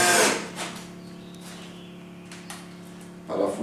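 Power drill driving a screw into a shelf bracket while assembling a floating shelf and niche kit, a steady whirring run of about three seconds opening and closing with louder bursts, close and clear with no talk.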